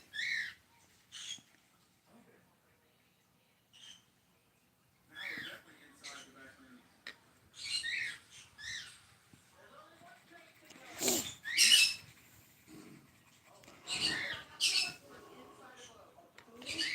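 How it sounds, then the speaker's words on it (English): Pet green-cheeked conures let out bursts of shrill squawks and chirps in a quiet room, the calls coming in irregular clusters separated by near-silence, with a person's voice faintly under some of them. "That is my green cheeks, my birds."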